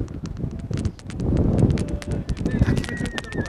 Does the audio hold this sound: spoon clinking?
no